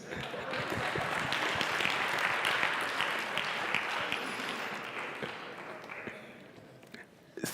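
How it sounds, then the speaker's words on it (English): Conference audience applauding a speaker on stage, dense loud clapping that swells early and then gradually thins and fades over several seconds. "I pause for an applause."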